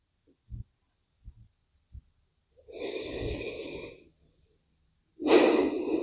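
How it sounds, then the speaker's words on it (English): A deep breath taken during a yoga session for athletes, heard as a long, close, airy inhale followed by a pause and then a strong exhale, after a few soft clicks. No one speaks. "Take one more breath here."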